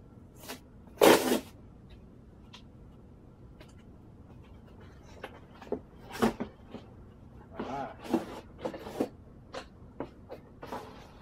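Cardboard box holding a Sig Sauer SBX pistol stabilizing brace, stapled at one end, being torn open, with a loud ripping burst early on followed by scattered rustles, crinkles and handling noises close by.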